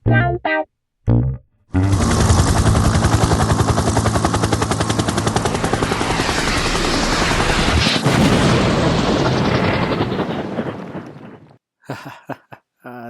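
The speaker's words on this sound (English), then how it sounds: "Thank you to Chester Barrett, Mike Koenig, for the helicopter sounds." A loud, sustained helicopter-like roar with rapid rotor chopping, running steadily for about ten seconds before cutting off, with brief sounds around it.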